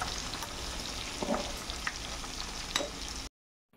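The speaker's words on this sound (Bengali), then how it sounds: "আলুটাকে ভাজা করে নিচ্ছি" Potatoes frying in a pan crackle in a steady close sizzle, with a few brief stirring scrapes, before the sound cuts off abruptly into silence; no speech.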